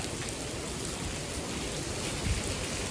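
Heavy typhoon rain in Spain pours down in a dense, continuous roar, steady and loud for the whole stretch, with no voices.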